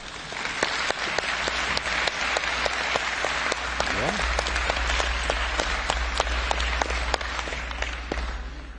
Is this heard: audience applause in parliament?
yes